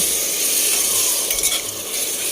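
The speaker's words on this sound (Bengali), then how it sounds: "বোনলেস চিকেনটা তো দিয়ে ভালোভাবে আমি এটাকে কষিয়ে নেব মশলাগুলোর সাথে ভালোভাবে কষিয়ে নেব" Boneless chicken sautéed with spices for a curry, loud continuous sizzling in the pan with brief scraping stir strokes in the middle, no talking.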